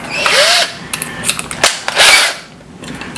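A power drill buzzes in two loud bursts with clicks and short gaps between, close and harsh.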